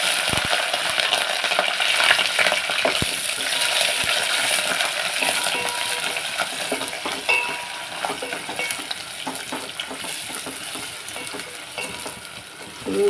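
Onions and green chillies with garlic sizzle and fry steadily in a pan for a continuous stretch, with occasional sharp metallic taps of a utensil against the pan.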